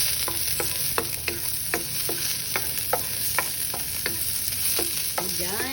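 Onions frying with corned beef in a pan: an even hiss of sizzling oil under a series of regular, crisp scraping stirs from a utensil, close and moderately quiet, with no talk.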